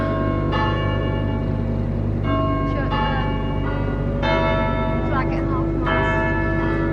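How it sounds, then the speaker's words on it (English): Church bells chime repeatedly over a town market square, their ringing strikes clear and fairly loud above a constant low hum, and a voice speaks beneath them. "And the church chiming."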